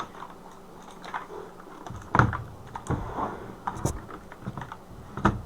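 Sparse, irregular key presses up close on a Razeak Hunter RK-X16 mechanical keyboard, a few heavier thocks among softer clicks, with quiet background noise.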